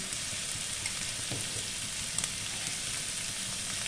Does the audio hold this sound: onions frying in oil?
yes